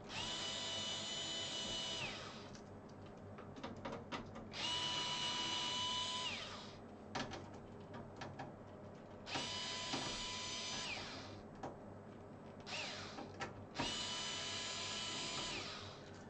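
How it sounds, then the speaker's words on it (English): Cordless screwdriver whirring in repeated bursts of about two seconds each while taking things apart, close and fairly quiet, with clicks and handling noise in the gaps between runs. "Cordless screwdriver is great for taking things apart."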